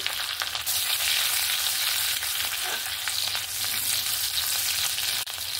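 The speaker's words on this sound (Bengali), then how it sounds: "সব কিছু একটু হালকা করে ভেজে নিয়েছি" Crushed garlic fries in a pan for a home-cooked fish dish, giving a loud, continuous sizzle with faint stirring scrapes, steady throughout, with no voices.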